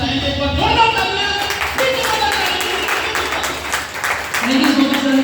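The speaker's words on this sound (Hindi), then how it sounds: "तो एक बार उनके लिए हम आप लोगों से चाहेंगे एक बार जोरदार तालियां।" Clapping from a seminar audience in Farrukhabad, a dense, continuous patter that keeps going under music and a voice speaking over the crowd.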